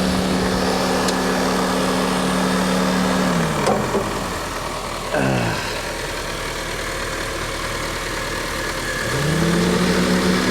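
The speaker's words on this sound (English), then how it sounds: "Cooling fans make a little bit of noise, nothing too crazy." A 2019 Infiniti Q50 with 250,000 miles runs steadily near at idle, its engine hum and cooling fans droning continuously with a brief dip and rise in pitch midway.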